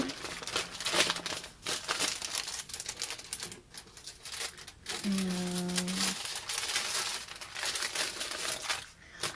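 Paper crinkling and rustling while junk journal pages are prepared, a steady dense crackle of handled sheets running throughout, close and fairly loud, with a brief hum-like tone partway through and no clear talk.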